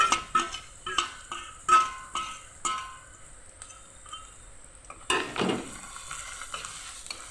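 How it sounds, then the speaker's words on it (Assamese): A curry with ginger and garlic stirred in a pan, a series of close utensil scrapes and clinks against the pan over a quiet sizzle, ending in a brief louder burst of frying. "এতিয়া ভালদৰে লৰাই দিছোঁ, নহ'লে তলত লাগি যাব।"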